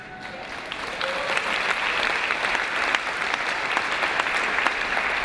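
An audience at a keynote speech applauds steadily, a dense even wash of clapping from many hands that holds at the same level throughout.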